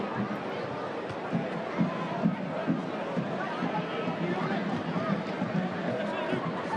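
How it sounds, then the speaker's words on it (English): Football stadium crowd at an A-League match between Perth Glory and Wellington Phoenix, a steady distant roar of applause and babble filling the stands, fairly faint and even throughout. "Fantastic reception by the crowd."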